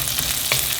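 Chopped garlic sizzling in hot oil with jeera seeds in a pan, a loud continuous fry with brief stirring scrapes.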